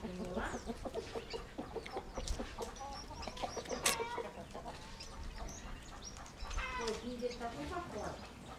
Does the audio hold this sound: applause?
no